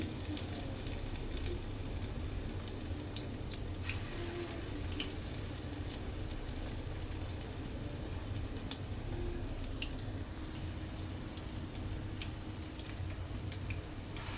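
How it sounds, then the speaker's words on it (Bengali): Onion fritters frying in hot oil in a wok give a soft, steady sizzle and crackle, faint and continuous throughout with occasional small pops. "তেল গরম হয়ে গেছে, কড়াই বসাই দিলাম। এই যে দেখেন পেঁয়াজি দিলাম।"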